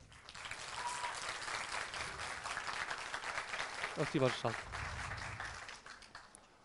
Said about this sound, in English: please, big round of applause for my teammates who will join me for Q&A